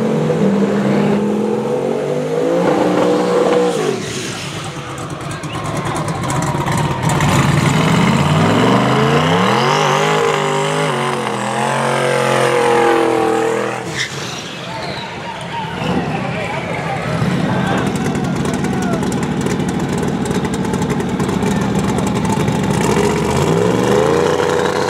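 A truck at Yello Belly Drag Strip revving and accelerating hard down the track, engine pitch sweeping up through gears, loud and close, with people talking over it.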